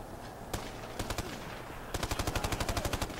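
Gunfire in Ghost Recon Future Soldier begins as a few separate shots, then turns into a fast, even burst of automatic fire, fairly quiet and heard over a low background hiss, with no speech.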